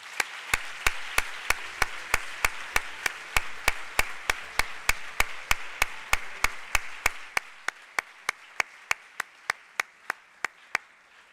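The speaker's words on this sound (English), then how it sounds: "I feel the quizmaster and the students who participated should get a good round of applause" Audience applause for a quizmaster and students at a National Science Day quiz final, led by one close, sharp clapper beating a steady even rhythm over a softer crowd wash that dies away, leaving the single claps alone.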